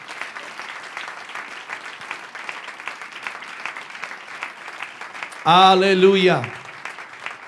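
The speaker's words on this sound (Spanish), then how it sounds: "Ese aplauso es de alabanza para el Señor." A church congregation claps in praise, a steady patter of hands that runs for several seconds before a loud voice calls out over it.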